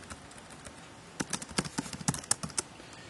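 Computer keyboard typing a short Python program into the JEdit editor on Windows XP: a quiet pause, then an irregular run of sharp, close key clicks with no talking.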